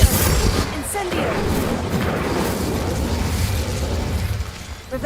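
A fiery Incendio spell blast bursts out in the Hogwarts Legacy video game, a loud, dense explosive whoosh and crackle that runs for the whole stretch and fades slightly near the end.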